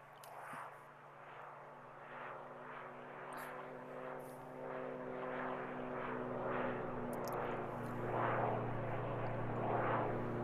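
A Cirrus SR22 propeller airplane flies past in X-Plane 11 over mountains, its engine buzzing steadily with a rhythmic pulsing drone that swells and grows louder toward the end, heard alone without speech.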